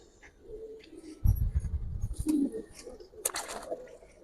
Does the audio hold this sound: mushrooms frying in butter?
no